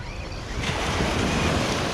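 Ocean waves wash onto the beach at Las Grutas, Argentina, a steady broadband surf roar that swells louder partway through, with some wind noise on the microphone.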